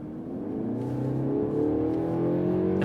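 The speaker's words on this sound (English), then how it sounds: "It sounds pretty good actually for a 4-cylinder, and that turbo noise is actually always there" Mercedes CLE Coupe four-cylinder turbo engine with a fairly loud exhaust, a steady rising drone under a faint turbo whine, close and continuous with no talking.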